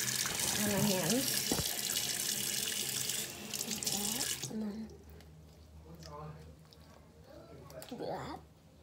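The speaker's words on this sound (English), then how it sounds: "Hot water on my hands." A tap runs loudly with a steady splashing rush for a few seconds, then shuts off, leaving faint drips and quiet wet handling sounds.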